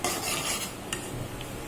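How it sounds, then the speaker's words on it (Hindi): Melon seeds fried in a pan, a quick stirring scrape with light sizzle and a couple of small clicks of the spoon against the metal. "बादाम निकालने के बाद हम इसमें अपने खरबूजे के बीजों को भी थोड़ा सा फ्राई कर लेंगे।"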